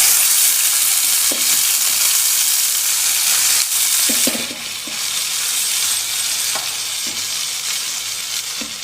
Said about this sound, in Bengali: দেখুন তেলটা গরম হয়ে গেছে, তেল থেকে এবার ধোয়া উঠছে